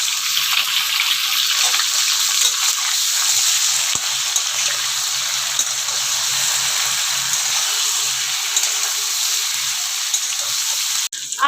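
Potato and pointed gourd pieces fry in oil with salt and turmeric, making a continuous close hiss and crackle that stays even throughout, with a brief knock near the end.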